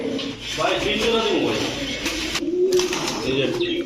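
Large Golla pigeons coo in a low, rolling murmur at close range while a person talks over them.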